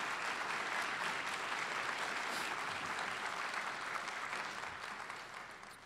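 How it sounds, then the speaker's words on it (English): Keynote audience gives a round of applause, a soft, even roar of many clapping hands heard from a distance that tapers slightly toward the end. "So a big round of applause about the relationship that we've had with SEL."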